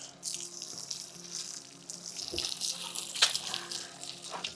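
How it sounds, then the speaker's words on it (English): Water from a rinse runs and splashes unevenly onto a rubber floor mat nearby, with a sharp spray burst partway through and soft clatter in the background. "Go ahead and give that mat a rinse."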